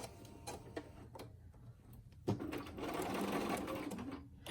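A sewing machine backstitches the ends of a seam on a fabric pleated face mask. It opens with a few faint ticks and then runs in a close, steady whir during the second half.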